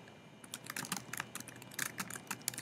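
Close, rapid keystrokes rattle on a computer keyboard while search hint text is entered in App Inventor, a dense, uneven run of clicks lasting a few seconds with no talk.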